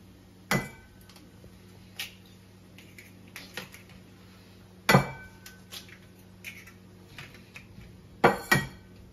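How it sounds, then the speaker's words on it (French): Four whole eggs cracked against a bowl while making a leek and goat cheese quiche: sharp, close knocks spaced a few seconds apart, some in quick pairs, with faint clinks of shell and dish between. "Alors, on casse 4 œufs entiers."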